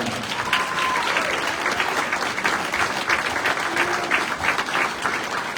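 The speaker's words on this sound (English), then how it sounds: "Big round of applause for everybody who won" A crowd claps steadily for winners at an awards announcement, a dense, even wash of applause holding at moderate loudness throughout with a few scattered voices underneath.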